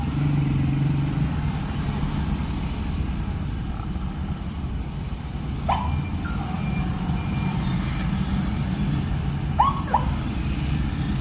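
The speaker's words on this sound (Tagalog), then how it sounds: "Ito po ka-traffic yan." Street traffic in Puerto Princesa, Palawan: a steady wash of passing vehicles and engine hum, with a few faint brief horn or beep sounds in the distance.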